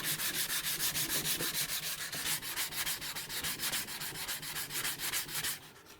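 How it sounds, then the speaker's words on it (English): Steady back-and-forth sanding strokes rub wood stain off a 1931 AWA Radiola radio cabinet, a close, continuous scratchy rhythm that stops abruptly near the end, with no talking. "So I just need to sand that off."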